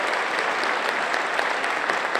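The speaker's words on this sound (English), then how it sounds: "I'd like to ask my reps to stand up just for a quick minute for a round of applause." Steady, full applause from a convocation audience for student representatives standing up, a dense wash of clapping close and consistent from start to finish.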